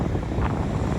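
Strong outdoor wind buffeting a microphone, a continuous loud low roar and rumble filling the whole second with no other clear sounds.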